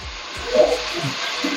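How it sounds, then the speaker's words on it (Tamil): Country tomatoes, green chillies and ginger garlic paste sautéing in a pan for fish curry give a steady, close frying hiss with small bubbling pops for a brief moment. "போட்டு இதெல்லாம் நல்லா வதக்கிக்கலாம்."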